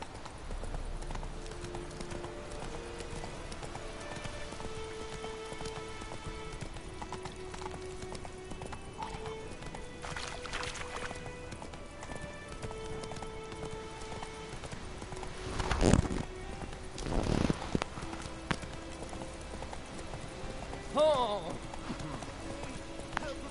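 Horse hooves clip-clop steadily from Roach, Geralt's horse in The Witcher 3, beneath continuous game music, while a few louder thuds and clatters break in near the end and a voice speaks.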